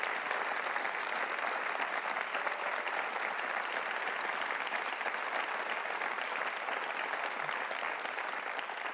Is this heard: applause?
yes